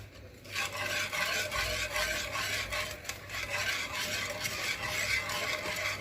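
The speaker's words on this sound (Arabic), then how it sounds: "نضل نحرك لحتى يعطينا السماك المطلوبة" A spoon scrapes steadily around a pot while a biscuit dessert mixture with vanilla is stirred, a continuous close rasping rhythm with no talking.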